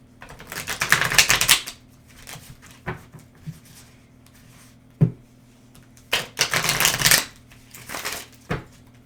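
Tarot cards shuffled by hand in two dense bursts, riffling and flapping, separated by quieter handling and a few sharp taps, close and fairly soft.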